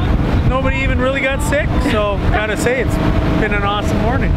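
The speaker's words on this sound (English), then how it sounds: "Sorry about that engine noise in the background." A steady low boat engine drone runs continuously beneath a person talking, with wind buffeting the microphone throughout.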